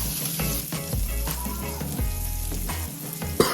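Salmon frying in a pan, a close steady sizzle with stirring and scraping as the fillet is flipped, ending in a sharp clink.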